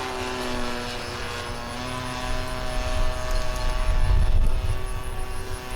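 A Phoenix 1:6.5 scale Cessna Skylane 182 model airplane flies over a grass field, its steady propeller and motor drone holding throughout and swelling louder near the end as it passes closer.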